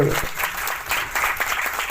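An audience at a formal academic event applauds as guests are welcomed onto the stage, a loud, busy patter of clapping blended with some voices in the room.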